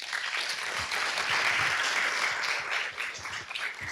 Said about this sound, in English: So a big applause for all our groups.